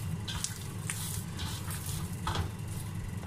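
Water splashing and trickling onto flour dough as it is kneaded by hand for roti, soft wet pours and squelches over a low steady background hum.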